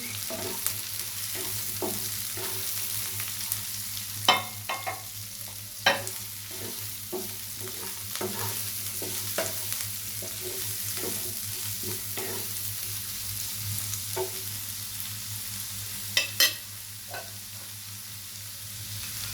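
Carrots stir-fry in a pan for chicken fried rice, a continuous sizzle broken by frequent close scraping stirs and a few sharper clacks of the utensil against the pan.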